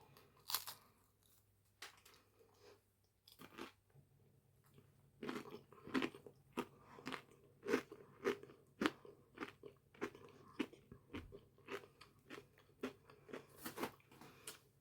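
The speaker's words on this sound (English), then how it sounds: "Now listen to the crunch." Rustic seed crackers being bitten and chewed up close, a series of sharp, dry crunches in irregular bursts, quiet between bites and with no talking.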